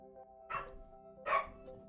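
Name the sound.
dog barking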